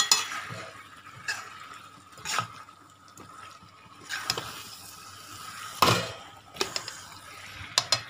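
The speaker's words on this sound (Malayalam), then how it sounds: "നന്നായിട്ട് ഇളക്കി യോജിപ്പിച്ചെടുത്തിട്ടുണ്ട്." Chicken and tomato being stirred in a pan for a spicy chili chicken curry, with intermittent scraping strokes of a spoon against the pan over a soft sizzle, close and fairly quiet.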